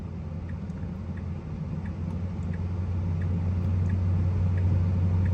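An approaching car on the road, heard from inside a first-generation Tesla Model X, makes a low rumbling hum that swells steadily louder as it draws near.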